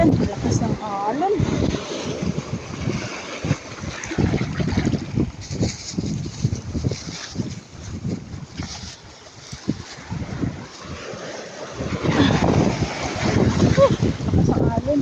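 Strong sea waves surge and crash on a beach where shells are being collected, with heavy wind buffeting the microphone throughout. People talk and exclaim excitedly over the roar of the surf.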